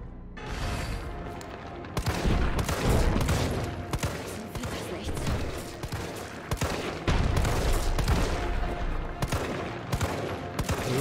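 Rapid gunfire in the Resident Evil 3 Remake video game, bursts of shots crowding together continuously and loudly over a dense game soundscape, with a voice talking briefly.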